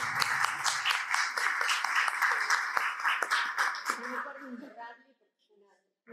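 Sustained applause from a crowd, dense steady clapping that fades out near the end, leaving a few quieter sounds.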